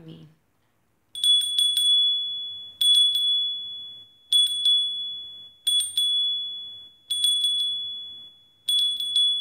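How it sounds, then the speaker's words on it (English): A ritual bell rings during a full moon rite, struck in six bright, clear bursts of quick repeated rings with short pauses between, each ring decaying slowly; a brief faint sound comes before the first burst. "I'm gonna ring the bell."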